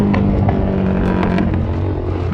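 A Rusi Gamma motorcycle with a loud aftermarket muffler rumbles past close by, its steady engine drone filling the whole short stretch.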